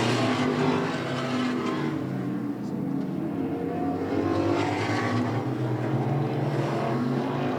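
Modified race cars racing at Hudson Speedway give a continuous loud roar of engines. The sound is steady and dense, with faint commentary blended underneath.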